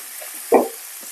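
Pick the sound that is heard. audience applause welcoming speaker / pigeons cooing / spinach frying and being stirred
spinach frying and being stirred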